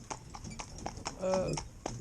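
Hooves of a Morgan horse clip-clop at a steady trot on a public road while pulling a vehicle for the first time in single harness, regular close beats with a person talking over them.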